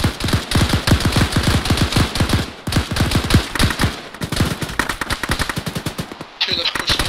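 Rapid automatic gunfire from a squad in a video game battle, sustained bursts of close, loud machine-gun fire throughout with brief pauses, some overlapping shots, and faint voices underneath.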